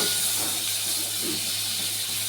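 Butter sizzles and hisses steadily as it melts in a cooking pan, a constant bright frying sound close by with no talk.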